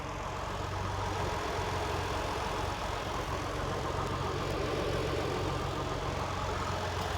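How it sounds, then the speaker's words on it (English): A 2016 Ford Explorer Limited engine idles steadily during a radiator coolant flush, a constant low hum with faint knocking texture, heard alone and without talk. "So engine is running."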